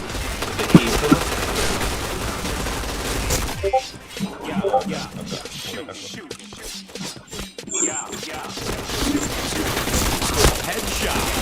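Rapid bursts of gunfire in a shooting video game, dense crackling volleys and repeated shots filling most of the stretch, with a brief quieter gap in the middle and a voice talking over the action.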